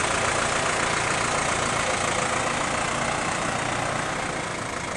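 A New Holland T4050 tractor's engine idles steadily and close by while its loader bucket is being swapped for another attachment, a constant even rumble with no talk over it.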